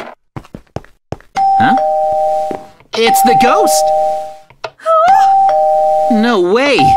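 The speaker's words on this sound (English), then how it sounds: "It keeps ringing the doorbell! It won't stop!" A doorbell in a Minecraft game rings over and over in long sustained chime tones, with short gaps between rings, while excited voices talk and exclaim over it.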